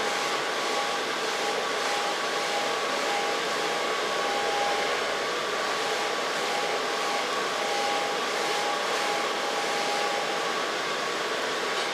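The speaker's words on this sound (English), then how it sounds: "before I go into blow dry it with my hands" A hair dryer blows steadily for the whole stretch while hair is styled with a round brush, a loud, even whoosh with a faint whine and no talking.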